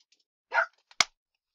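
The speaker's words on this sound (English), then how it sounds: "sorry, my dog just went crazy" A dog barks indoors, a loud burst followed a moment later by a second sharp, short bark, close by with no talking.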